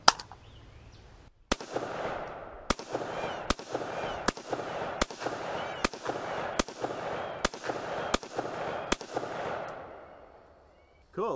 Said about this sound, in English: let me go ahead and lob 10 rounds of 223 at that sofa